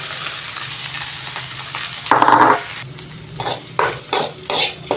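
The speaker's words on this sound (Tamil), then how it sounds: "இப்போது இந்த பீக்கங்காத்தோலை இந்த நல்லெண்ணெயில் போட்டு நல்லா வதக்கிக்கலாம்" Ridge gourd peel sautéing in sesame oil sizzles steadily up close, broken by several sharp bursts of stirring and scraping in the pan, with no voices.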